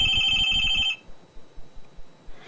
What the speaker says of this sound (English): the phone just didn't stop ringing the whole day and night